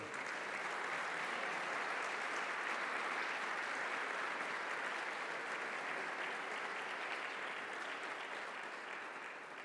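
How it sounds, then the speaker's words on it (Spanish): A church congregation applauds continuously in a long, dense wash of clapping that holds steady throughout and fades slightly at the end, heard faintly and at a distance. "Denle un fuerte aplauso al Señor."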